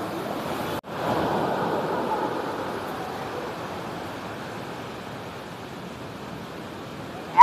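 The large mass of water at the Ranchi falls comes through as a steady, broad roar of rushing water, fairly distant and even, with a brief dropout near the start and a small bump at the end.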